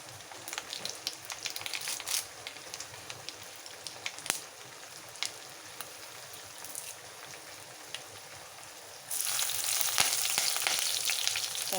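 Prawns, fenugreek and mustard seeds fry in oil in a clay pot, a soft steady sizzle with faint crackles that swells louder near the end, with no voices.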